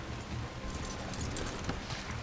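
Horse hooves clip-clop steadily on ground in Red Dead Redemption 2, a continuous soft rhythmic trotting beneath a wash of outdoor ambience, with no talk.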